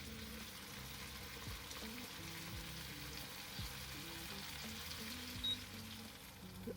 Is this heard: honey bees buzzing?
no